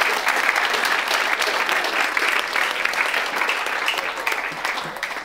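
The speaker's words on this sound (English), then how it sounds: "Why don't we give them a big round of applause?" Loud, sustained applause from an audience at a live event honoring a group with a certificate, dense clapping filling the whole stretch without a break.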